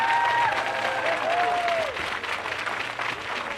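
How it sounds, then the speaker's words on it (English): Crowd applause and cheering at a barebow and recurve target archery final, a steady broadband clatter of clapping filling the whole stretch, with a whistle sliding through early on. "The crowd enjoying that match by the sounds of it."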